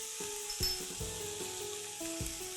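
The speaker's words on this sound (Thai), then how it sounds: "ผัดให้เข้ากันค่ะ" Crispy fluffy catfish stir-fried with chili paste in a pan sizzles steadily, with about five rhythmic stirring strokes over a few seconds and no talk.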